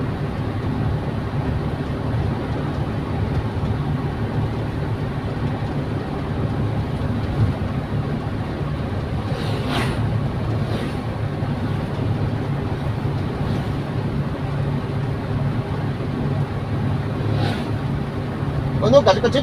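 A car cruising at 55 km/h on LPG with the air conditioning on gives a constant low engine and road drone from inside the cabin, with a few brief higher rattles partway through.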